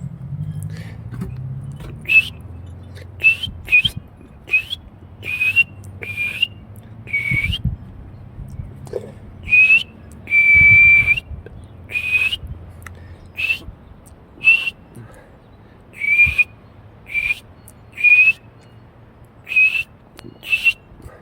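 A man whistling to imitate a bird call, producing repeated short, shrill chirps and a few longer sustained notes in irregular bursts, loud and close, with some low background rumble and brief speech between whistles.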